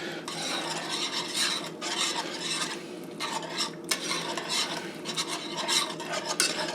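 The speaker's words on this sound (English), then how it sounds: "we're supposed to whisk that all together." Whisk stirring beef broth and tomato paste into a stroganoff sauce: brisk, close scraping and swishing in repeated rhythmic bursts against the pan, steady and fairly loud with no voices.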